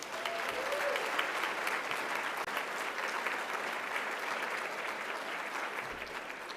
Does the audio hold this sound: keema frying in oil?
no